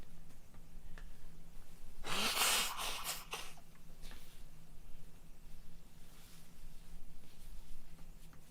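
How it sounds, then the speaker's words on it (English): A person blows their nose in one loud, close honk lasting about a second, with a few smaller snorts and sniffs after it against a quiet humming room. "I need to really blow my nose."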